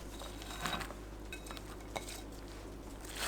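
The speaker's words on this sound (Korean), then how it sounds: "사과 넣고 버무리세요." Sweet potato and apple being tossed with doenjang and gochujang sauce in a bowl, producing faint soft squishing with light clinks of utensil against dish, gentle and close.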